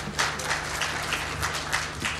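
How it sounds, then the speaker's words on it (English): An audience at a devolution conference applauds, with clapping coming in quick uneven bursts over a low steady hum from the room. "a big round of applause,"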